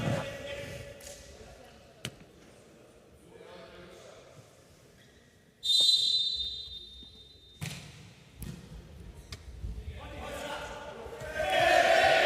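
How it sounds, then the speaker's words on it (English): A referee's whistle at a men's Serbia versus Hungary volleyball match rings out as one sustained shrill blast amid crowd noise, thuds and arena commotion. "There's a whistle against Savic, the libero"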